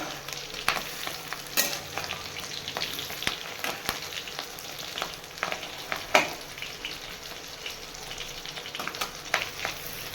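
Fish roe fritters sizzle and crackle steadily in hot oil, with occasional sharp pops and stirring clinks against the pan; close and continuous, no one speaking.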